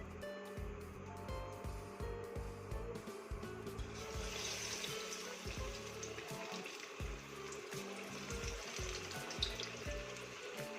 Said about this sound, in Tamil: எண்ணெய் நல்லா சூடாயிடுச்சு. இப்போ நம்ம பஜ்ஜி சேர்த்துக்கலாம்.